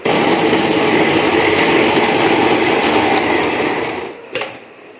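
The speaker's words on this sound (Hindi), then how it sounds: "बॉयल जो मसाला है उसको अब हमने ग्राइंडर में डाल के ग्राइंड कर लेना है अच्छी तरह से" An electric kitchen grinder whirs loudly and steadily as it grinds boiled spice masala at home, the dense motor roar continuing for about four seconds before cutting off with a brief clunk.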